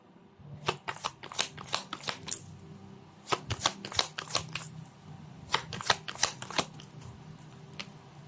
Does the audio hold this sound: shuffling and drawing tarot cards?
yes